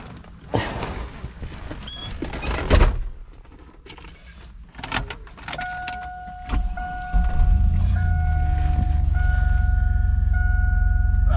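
After an alternator replacement, a car engine cranks through several rough bursts and clatters, then catches and settles into a steady idle, with a dashboard chime tone sounding over the running engine.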